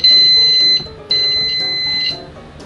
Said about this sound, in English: Let's see if we're going to get any tone out of this speaker.